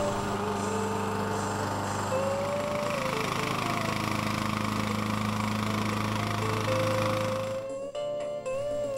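A Craftsman YS 4500 lawn tractor with rotary mower blades blowing snow, its engine droning steadily and loudly up close with a whining blade hum, cutting off near the end.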